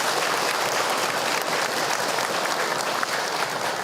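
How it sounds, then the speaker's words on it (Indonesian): An audience at an Islamic lecture applauding for a mother who asked a question, dense sustained clapping filling the room, loud and steady throughout. "Tepuk tangan buat Bunda yang bertanya."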